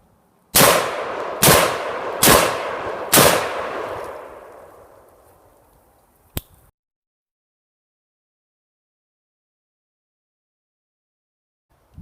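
Four loud, evenly spaced semi-automatic gunshots from an AR-15 pistol in 6.8 SPC, each with a long decaying echo outdoors, then a single sharp metallic click. Silence follows, with no full-auto burst.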